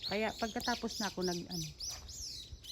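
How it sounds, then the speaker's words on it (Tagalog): A noisy bird chirps rapidly in a garden tree, a quick run of bright, repeated tweets, moderately close, while someone talks quietly alongside. "Yung ibon maingay kasi meron pala siyang puga doon oh."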